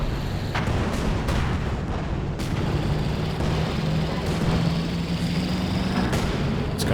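Mortar fire in Company of Heroes 2, a real-time strategy battle: repeated sharp impacts and booms land every second or so over a constant roar of battlefield noise.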